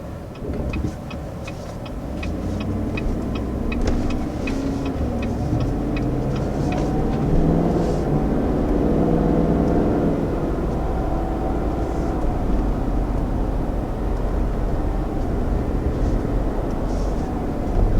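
A 2020 Cadillac Escalade SUV accelerates on the road with a loud, steady low rumble that swells and holds, and faint rhythmic ticking is heard at the start.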